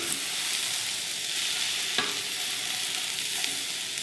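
Fennel and carrots sizzle in a big pan full of vegetables, with a steady close frying hiss and the occasional scrape and clack of stirring and tossing, no voices.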